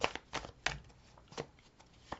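Tarot cards from an old Lightseers deck laid out on a surface, making several close, quiet slaps and soft shuffling rustles, spaced irregularly.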